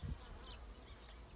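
A package of bees is being installed into a hive, a soft, continuous buzzing of many insects heard faintly at close range, with no talk.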